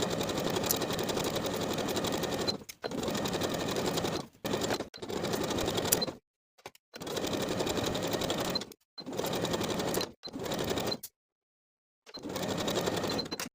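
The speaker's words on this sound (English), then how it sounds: "we'll sew the facing in place from the bottom edge of one bodice piece all the way across the shoulder" A sewing machine sews a facing onto a wrap top bodice in repeated bursts of steady, buzzing stitching, each several seconds long, separated by brief silent pauses; close and alone without speech.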